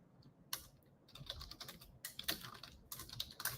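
Rapid typing on a computer keyboard, close and fairly quiet, in irregular bursts of clicks with short pauses between them and no talking.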